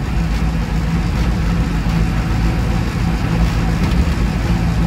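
A Land Rover Lightweight's 200Tdi diesel engine runs steadily with a loud, close, low rumbling drone that holds even throughout, with no talk over it.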